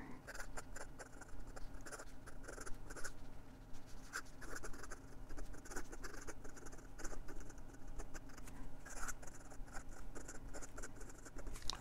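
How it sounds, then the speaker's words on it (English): A 1958 Lady Sheaffer Skripsert fountain pen nib moving fast across paper gives a continuous dry scratching and pattering, close and faint, with brisk uneven strokes. "And some quick writing."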